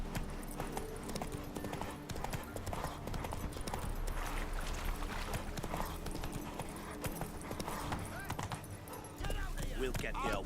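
Horse Roach's hooves clip-clop at a steady gallop in The Witcher 3, a continuous rhythmic drumming mixed with game sound and voices talking over it.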